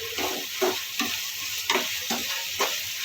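Capsicum fries in a spiced masala for a soya chaap dish, a steady close sizzle broken by rhythmic scraping strokes of the stirring spoon, with no voice over it.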